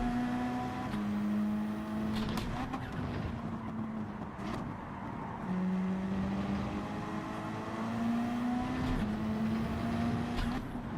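Racing car engines in Gran Turismo 7 drone steadily with rising and falling tones as gears shift, a continuous loud engine whine with brief upshift breaks.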